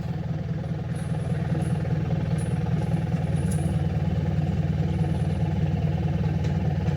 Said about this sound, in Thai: รถไถดึงครับ